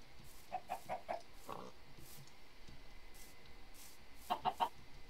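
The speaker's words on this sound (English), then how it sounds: "Ooh, chickens, but we don't care about them." Chickens cluck in a video game, two short bursts of quick repeated clucks, one near the start and one near the end, set against a quiet ambient background.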